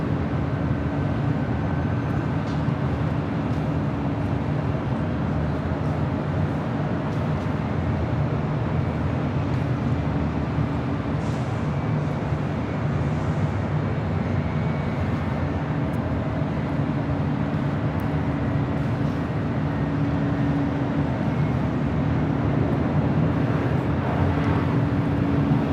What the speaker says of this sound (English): So we've got Norse and the Qantas taking off on the south side